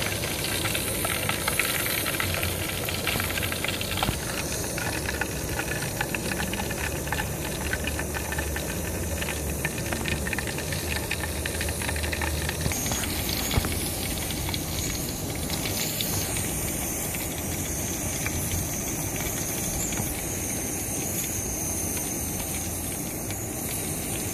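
Wax melting in a can on a camping stove gives a steady, close hiss and sizzle that runs unbroken and fairly loud the whole way through, with no voices.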